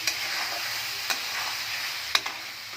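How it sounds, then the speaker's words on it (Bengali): Tangra fish frying in a pan with onion, garlic, ginger, chilli, salt and turmeric, cooked alongside purple yam, gives a steady close sizzle broken by a few sharp spatula scrapes and clinks. "মাছটা এখন কষানো হচ্ছে, ঝাল, পেঁয়াজ, রসুন, আদা সব কিছু দিয়ে লবণ হলুদ সব দিয়েছি।"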